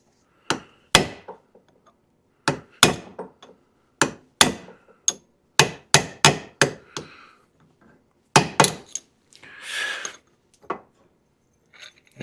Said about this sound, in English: I'm going to grab a punch so we can get that out of there. Just going to hit right along the inner race.